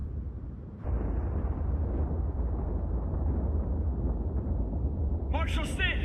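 A huge Ultima bomb blast from the video game Final Fantasy Type-0 HD hits suddenly, then a loud sustained low rumble rolls on through the clip, with a brief higher crackle near the end.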